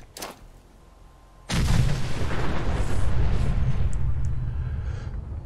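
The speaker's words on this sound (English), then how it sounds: "This is the nuclear alchemy bomb." A nuclear alchemy bomb goes off in the game Fallout 4: after a faint pop, a sudden loud blast rolls into a long, dense rumble that slowly fades.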